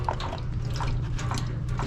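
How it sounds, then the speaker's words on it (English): Water drips intermittently from a leaking Laars Pennant commercial hydronic boiler, a few soft splats over a steady low mechanical hum close by. "It's got like a little drip here."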